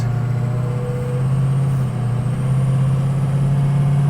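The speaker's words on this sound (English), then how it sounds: "it's hard to beat the whistle of a 6-liter Powerstroke" The 6.0L Powerstroke diesel in a 2004 Ford Excursion Limited 4WD gives a steady high turbo whistle over a constant low engine drone, heard up close and loud with no talking.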